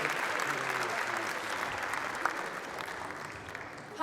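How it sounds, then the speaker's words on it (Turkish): Audience applause fills a hall at a Kayseri Caucasian association culture night concert, steady and dense clapping throughout with no pauses, the crowd sounding moderately close. "Sizleri alkışlarla yerlerinize uğurluyorum."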